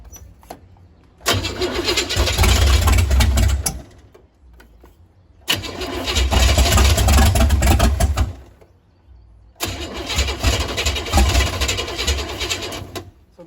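A 468 big block Chevy engine in a Nova cranks without firing in three long, loud bursts of rapid starter churning, each about two to three seconds, separated by short pauses.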